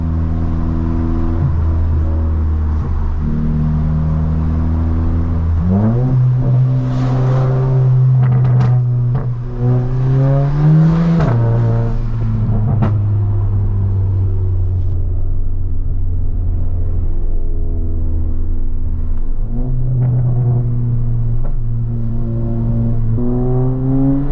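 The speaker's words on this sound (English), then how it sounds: "I used to think the induction noise was really intrusive" A Stage 2 tuned VW Polo GTI drones and whooshes from inside the cabin while driving, engine and induction noise rising in pitch through several revving surges and gear changes, loud and steady with no talk.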